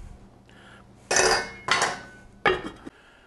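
Two cans of mushrooms are sprinkled into a roasting pan with a chuck roast, giving a few clattering metallic knocks and scrapes at an uneven pace, close by, with no talk.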